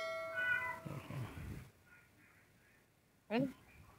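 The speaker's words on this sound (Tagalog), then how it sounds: "Naririnig niyo po yung mga pusa" A cat meows a few times in a strained, wavering call amid quiet background talk, followed by a sharper, louder meow near the end.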